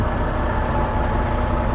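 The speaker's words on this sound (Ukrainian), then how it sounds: "Фуру вже завів" A semi truck engine runs at idle on a snowy morning, a steady loud low rumble heard close up with no talk over it.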